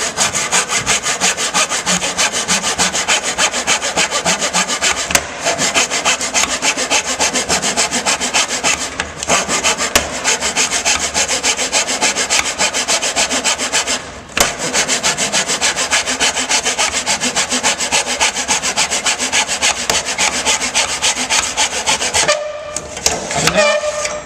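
A hand saw cuts timber held in a clamping cutting box, with steady, loud back-and-forth strokes running continuously close up, pausing only briefly before the blade finishes through the wood.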